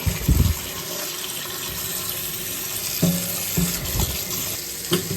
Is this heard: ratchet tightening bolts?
no